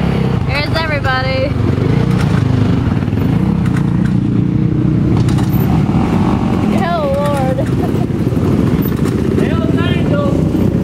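A homemade go-kart fitted with a snowmobile engine runs loudly and steadily close by, a constant droning motor under people talking and exclaiming over it.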